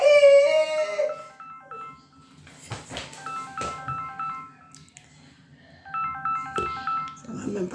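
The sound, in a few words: mobile phone ringing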